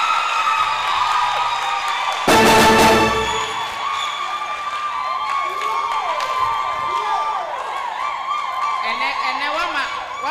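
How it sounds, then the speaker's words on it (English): A studio audience at a televised talent show cheers and shouts for a performer, with one loud burst of crowd noise, then chatter and voices carrying on over a lively background. "I show a round of applause for Fresh Radical"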